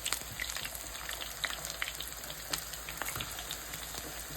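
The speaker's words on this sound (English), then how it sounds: "let it fry on this side for another minute or so" Green plantain slices for tostones fry in hot oil in a pan, giving a quiet, steady sizzle dotted with small crackling pops throughout.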